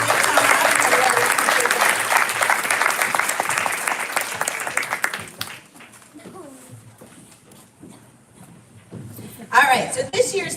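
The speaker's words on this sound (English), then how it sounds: "let's give them a round of applause" Audience applause at a school board meeting, loud and dense for about five seconds, then fading into scattered claps and murmuring, with a brief burst of cheering near the end.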